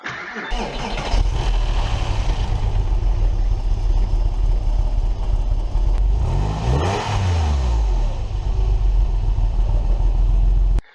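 A 1999 Porsche 911 cranks briefly and catches, its engine roaring loudly to life and revving once before settling into a steady, close, throaty idle that runs to the end.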